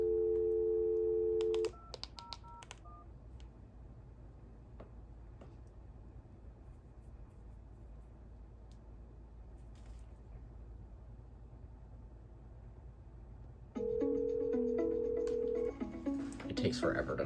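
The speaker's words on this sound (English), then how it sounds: "it takes forever to dial" DTMF tones dialing out through a FreePBX home phone system: a short burst of steady tones at the start, a long quiet stretch of line hiss, then a loud steady ring tone returning near the end.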